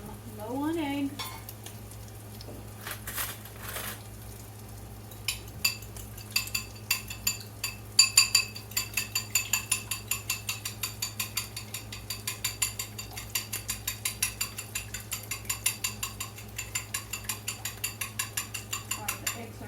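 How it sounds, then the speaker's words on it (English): Eggs being stirred and scrambled in a frying pan, with a steady low sizzle and a long run of quick, regular utensil scrapes and clinks against the pan, close and moderately loud. "All right, the eggs are scrambled."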